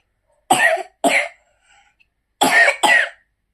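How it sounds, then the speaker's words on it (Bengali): Two pairs of sharp, close coughs, separated by a short pause with a faint throat sound between them. "কাশি হচ্ছে"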